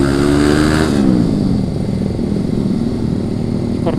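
A Yamaha Scorpio motorcycle's exhaust rumbles loud and close, with a steady low engine note that drops slightly in pitch after the first second and then holds an even, throbbing idle.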